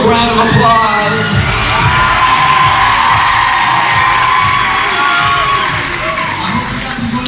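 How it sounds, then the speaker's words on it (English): A live show audience cheers, whoops and applauds for performers walking out, a loud, dense crowd roar that holds steady throughout. "Give them a big round of applause"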